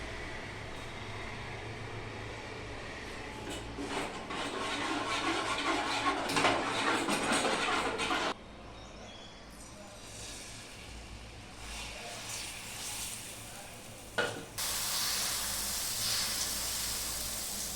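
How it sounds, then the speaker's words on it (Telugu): Sodi flour (ragi) dosa batter sizzling on a hot pan, a steady hiss and crackle rising loud for several seconds, dropping away, then a sharper fresh sizzle bursting up near the end. "ఇవాళ సోడిపిండి అట్లు వేస్తున్నాను ఫ్రెండ్స్"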